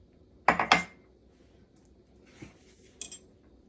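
Cutlery clinks against a plate as white rice with bean mash and sweet pumpkin mash is served for a home dinner: two quick, close metallic clinks, then a faint tap and one more light clink.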